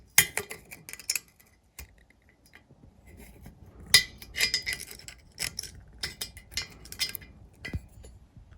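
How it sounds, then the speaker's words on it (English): A metal pick tool scrapes and picks at melted housing stuck to a bolt during a Mercruiser Mercury upper unit rebuild, making irregular close clicks, ticks and scratchy scrapes in short bursts with quiet pauses between. "grab a pick tool and carefully pick away at that melted housing that is melted onto that bolt"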